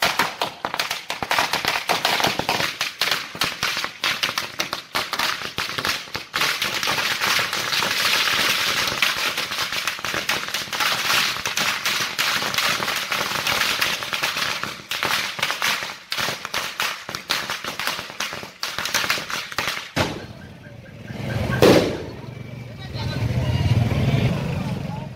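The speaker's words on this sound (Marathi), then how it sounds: "फटाक्यांची आतिषबाजी करत मिठाई वाटून आनंदोत्सव साजरा करण्यात आला" Firecrackers burst in a dense, continuous volley of sharp cracks and pops at a celebration for the Ram temple ground-breaking in Rahuri, loud and sustained for about twenty seconds before thinning out, with voices mixed in.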